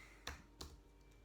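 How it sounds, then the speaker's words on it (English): Two sharp clicks on a computer keyboard, spaced a fraction of a second apart, close and fairly quiet against a faint background hum. "As I'm typing this in here."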